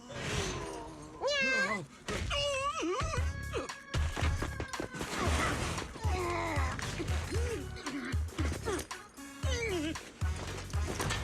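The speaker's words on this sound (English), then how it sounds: "She's just some lousy cat." A cat meows repeatedly in the mobile game Zenless Zone Zero, its rising and falling cries loud and close over game music, crashes and thuds.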